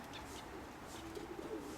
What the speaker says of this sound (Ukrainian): Наляканий голуб.